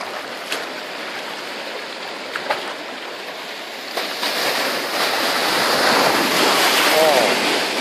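Sea waves break and wash over wet rocks close by, a steady roaring surf that builds louder toward the end, with a few sharp splashes and wind buffeting the microphone.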